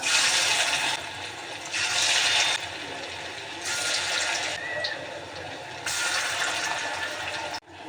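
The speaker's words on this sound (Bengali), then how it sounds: "এদিকে তেল গরম হয়ে গেছে। এক এক করে আমি পাকোড়াগুলো দিয়ে দিচ্ছি।" Lentil and potato pakoras sizzle in hot oil in loud, steady bursts that swell and fade as each batch goes in, ending abruptly.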